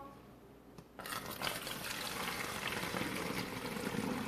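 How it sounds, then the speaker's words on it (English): Castile soap cleaner poured into a spray bottle: after a quiet second, a steady broadband liquid rush and trickle runs continuously, close and moderately loud. "You're going to pour it into your spray bottle."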